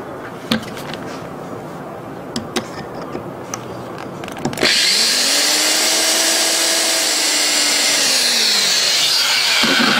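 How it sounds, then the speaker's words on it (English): A power drill bores a hole into the side of a homemade hidden blade mechanism, a steady loud whine starting abruptly midway after quiet handling noises and clicks, holding on for several seconds. "I am going to drill another hole in the side for another locking mechanism."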